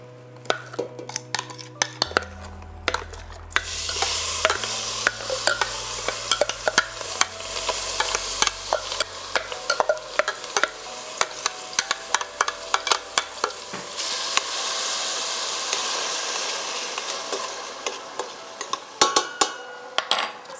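Onions fry in grapeseed oil with a steady, bright sizzle that swells after a few seconds, broken by frequent sharp clinks and scrapes of a utensil stirring against the pan; no one talks.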